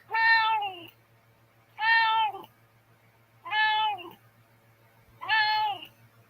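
A domestic cat meows four times in an even rhythm, each call loud, close and drawn out, over a faint steady hum.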